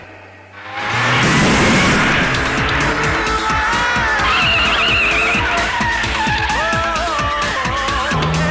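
A car roars in and skids with loud, sustained tire squeal, the engine note close and dominant throughout, with no talking over it.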